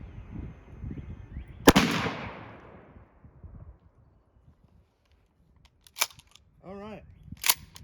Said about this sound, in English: So I'm just going to go ahead and shoot it one time at 40, see where it hits.